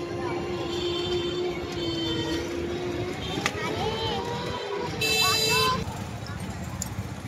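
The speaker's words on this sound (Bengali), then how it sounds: "একটা অটো পেয়ে গেছি।" Auto rickshaw ride through busy street traffic on an Eid shopping trip in Bangladesh, a steady engine drone and road rumble with a horn toot near the end, under continuous talk.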